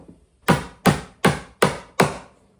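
A hammer drives 2-inch 6D finishing nails into a wooden planter box with five sharp, evenly spaced strikes, close and loud, each one ringing briefly before the next blow.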